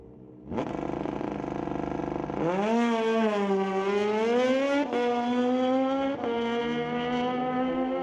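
Kawasaki ZX-19 street-legal drag bike launches at Mission Raceway Park, its engine snarling into a loud, rising scream that climbs through sharp gear shifts, close and sustained with no voices over it.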